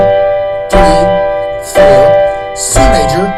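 Piano chords sound in three clear, separate strikes about a second apart, each ringing with a rich sustained tone that decays before the next, close and loud with no talking.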